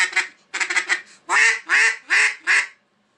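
A homemade duck call with a smoke-colored insert is blown in a rapid series of raspy quacks, a quick run of short notes followed by four louder, longer, evenly spaced quacks, close and alone.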